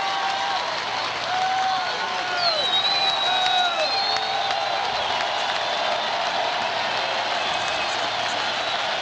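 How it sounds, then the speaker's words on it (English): A baseball stadium crowd at the 1991 World Series, Twins at Braves, stands and cheers in a loud, sustained roar with whoops and whistles, tied 2-2 in the eighth inning, beneath a radio announcer's call. "Crowd standing now and cheering as Mike Stanton gets ahead of Herbeck."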